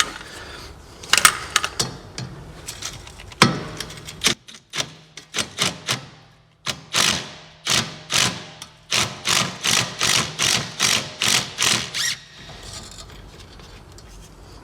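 An impact gun run in reverse on a Vauxhall Astra J front shock bolt held with a 19mm spanner, a few separate bursts followed by a long steady run of loud rapid hammering rattles.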